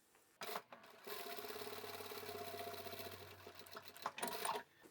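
A sewing machine runs a steady continuous top-stitch along a closed-up opening of a reversible boho sling bag, close and fairly loud for about three seconds, with handling noises at the start and end.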